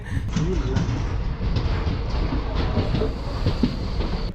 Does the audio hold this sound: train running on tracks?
yes